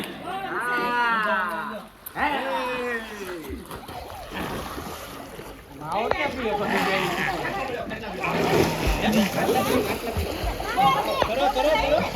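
Family members splashing in water on a farm on a hot sunny day, loud close splashes and sloshing, with excited voices, shrieks and chatter over and between the splashes.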